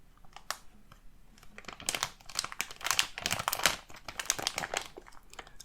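Foil wrappers on 2021 Panini Score NFL football card packs crinkle and tear up close, in quick dense bursts of rustling that grow busier partway through, with no talk.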